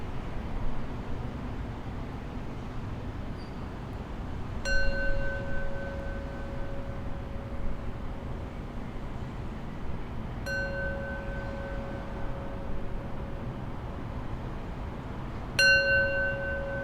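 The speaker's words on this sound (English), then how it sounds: "we'll close today's practice with 3 rings of the bell" A meditation bell is struck three times at even intervals, each ring a clear sustained tone that hangs and fades over a quiet background hiss, closing a body-scan practice.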